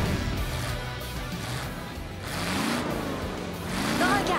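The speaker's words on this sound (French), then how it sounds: "Regardez ces moteurs prêts à bondir sur la ligne de départ." Race car engines revving together at a starting line, a steady loud mid-range roar with rising pitch sweeps near the end, continuous throughout.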